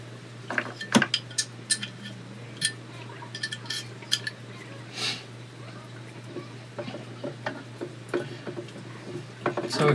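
A metal stamp and steel block are set into an arbor press, giving sharp metallic clinks and taps scattered through a steady low hum, with faint workshop sounds between the knocks.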